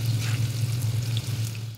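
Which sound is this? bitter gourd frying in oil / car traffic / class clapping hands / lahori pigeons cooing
bitter gourd frying in oil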